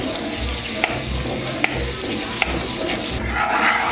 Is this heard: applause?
no